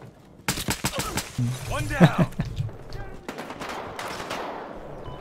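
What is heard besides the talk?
nail gun firing in the video game Battlefield Hardline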